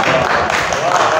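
Audience applause at an Urdu literary show, a dense steady wash of clapping from a crowd with a voice mixed in underneath, loud throughout the short stretch.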